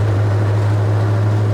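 Loud, close mini bike exhaust drone running in second gear with gear meshing, a steady low rumble with a rough, grinding texture throughout.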